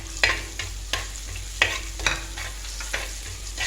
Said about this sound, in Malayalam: അത് റെഡിയായി വരുമ്പോൾ നമുക്ക് നല്ല ജീരകം ഇട്ട് കൊടുക്കാം